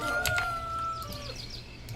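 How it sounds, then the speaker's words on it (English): A rooster crows once, a drawn-out falling call, in the video game Force of Nature, with a few faint clucks and chirps around it. "yes, that is a rooster"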